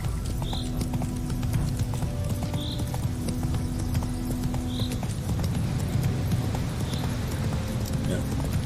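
Horse hooves cantering in The Witcher 3: Wild Hunt video game, a steady rhythmic clip-clop of hoofbeats over continuous low rumble and ambient hum, moderately loud and unbroken, with a game voice speaking.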